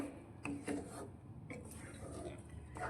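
Halwasan mixture with sugar being stirred in a pan, a faint series of scraping and rubbing strokes with light metallic clinks, quiet and irregular, heard close with a soft voice beneath.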